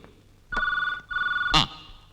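A telephone rings in two electronic trilling bursts, close and clear, with a sharp click-like sound at the start of each ring.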